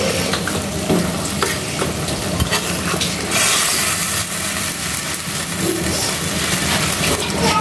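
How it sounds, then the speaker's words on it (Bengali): Meat is stir-fried in a pan for a jackfruit-seed dish, with a loud, continuous close sizzle broken by repeated scraping stirs of the spatula and no speech. "দেখো মাংসটা কষানো হচ্ছে, আরও একটু কষাবো।"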